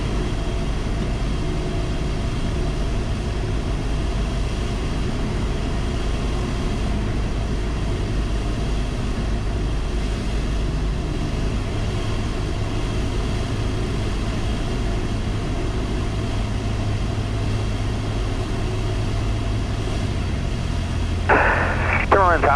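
A Cessna 172 in flight during crosswind landing training, heard from the cockpit as a loud, steady engine and propeller drone that fills the whole stretch, with a brief radio blip near the end.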